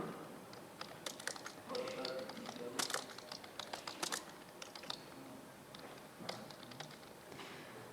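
Text typed on a computer keyboard into a text box, irregular bursts of close key taps and clicks with brief pauses between runs.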